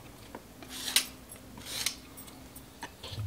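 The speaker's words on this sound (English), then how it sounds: "I'm just gonna quickly peel them." Small cucumbers are quickly peeled by hand in a home kitchen, giving a few faint, brief scraping strokes spaced about a second apart over a quiet background.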